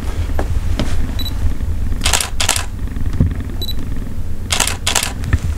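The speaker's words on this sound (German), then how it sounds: "So, jetzt machen wir schnell noch mal ein Bild." A camera shutter clicks a few times as a photo is taken, sharp and close against a steady background hum, with quick paired clicks arriving in two separate bursts.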